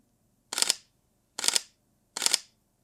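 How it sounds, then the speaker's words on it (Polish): Three crisp mechanical shutter clicks from a Sony A7-series mirrorless camera (A7IV/A7RV), evenly spaced about a second apart, close-up and sharp against a quiet room. "Jak słychać, aparat jest głośniejszy z tą migawką zwykłą mechaniczną"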